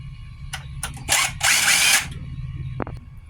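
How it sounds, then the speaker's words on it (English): A power drill backs out the screws holding the drive onto a swimming pool pump motor, giving several short whirring bursts and one longer close, loud run, with faint mechanical clicks in between. "I'm going to remove these 3 screws."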